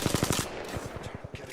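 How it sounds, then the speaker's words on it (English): Apex Legends gunfire: a rapid burst of close automatic shots, a short pause, then a second, quieter string of rattling rounds. "Getting shot at."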